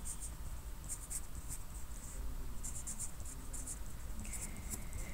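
Pen or pencil writing numbers by hand on paper, soft scratchy strokes in short bursts over a low background hum, close and quiet.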